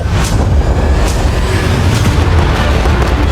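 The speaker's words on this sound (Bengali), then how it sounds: "ফায়ারওয়ার্ক গুলো ফায়ার করো" Fireworks being set off, a dense, loud continuous rumble of booms and crackling bursts with no pauses, heard close.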